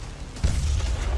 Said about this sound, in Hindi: देखिए कैसे आसमान से आती मिसाइल सीधे इस मिसाइल लॉन्चर पर गिरी और लॉन्चर धुआं धुआं हो गया है